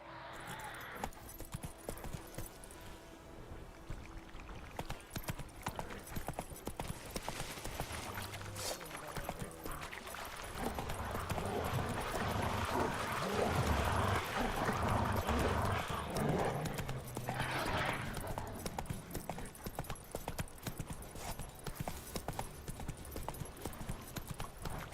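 Hooves of Roach, Geralt's horse in The Witcher 3: Wild Hunt, clip-clop steadily under a full game soundtrack, with a rhythmic trotting beat running through most of the stretch and growing busier in the middle.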